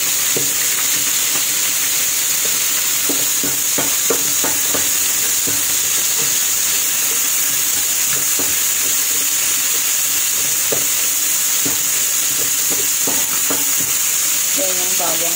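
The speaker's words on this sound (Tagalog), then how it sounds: "igigisa natin ang bawang, sibuyas at kamatis at luya." Garlic, onion, tomato and ginger sizzle steadily in a hot pan for a home-style chicken dish, with scattered utensil scrapes and stirring clicks over a constant frying hiss.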